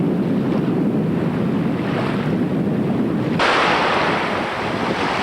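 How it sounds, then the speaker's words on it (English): Strong, gusty wind buffets the microphone outdoors on the water beside a boat on a cold morning, a loud continuous roar with surging gusts and no talk. "As you can see, it's quite windy conditions, so I'm having trouble getting the baits out in the boat."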